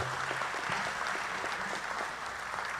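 Indoor audience at a Fort Bend County listening tour meeting giving a round of applause, steady dense clapping heard from a distance that continues evenly for the whole moment.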